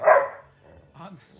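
An adopted stray dog gives a single sharp, close bark, followed by a quieter muffled sound and low background noise.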